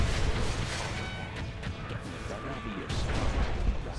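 Particle cannon superweapon in the C&C Generals video game, a dense stretch of rumbling blasts and crackling impacts with strong booming lows, loud throughout under game ambience, with a voice briefly present.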